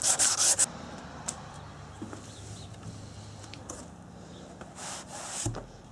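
Sandpaper rubbing over a plastic part from a 2002 Honda XR100 motorcycle, steady close scraping strokes with a few brief louder bursts, no talking.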